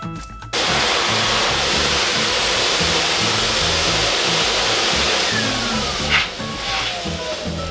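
A blow dryer roars steadily while drying a cow's hair during winter grooming, switching on after a brief moment and running loud and continuous with slight shifts as it moves.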